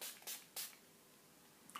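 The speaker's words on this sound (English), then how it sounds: "I'm just going to finish off the makeup look with the Revolution Pro Fix Amazing Setting Spray." Revolution Pro Fix Amazing Setting Spray mists out in two short, close bursts, then a faint third puff, with quiet gaps between and no talking.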